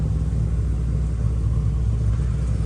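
A supercharged Ford Coyote V8 in an aggressive race car idles with a deep, steady, throbbing rumble up close in a pit area, loud and continuous with no talk.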